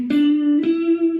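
Short blues guitar lick over the 4 chord: two picked notes, the second stepping slightly higher and sustaining, played close and clean with no voices.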